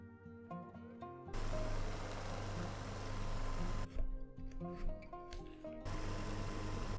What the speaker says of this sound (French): Ça vient, mais mon mixeur a un besoin d'un peu d'aide.